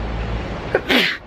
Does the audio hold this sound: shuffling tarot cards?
no